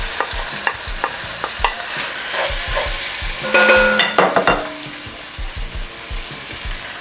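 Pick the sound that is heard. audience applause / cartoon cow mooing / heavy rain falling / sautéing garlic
sautéing garlic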